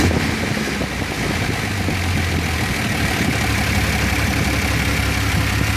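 An old Rambler car engine idles with a misfire from a dead number 5 cylinder, producing a close, loud, rough and uneven rumble that runs steadily without speech.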